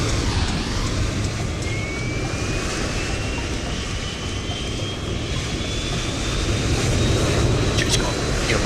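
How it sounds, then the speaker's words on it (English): Airbus A350-900 auxiliary power unit spooling up in Microsoft Flight Simulator 2024, a steady loud rushing drone with a slowly rising turbine whine, sustained throughout. "he hears my APU kick into life"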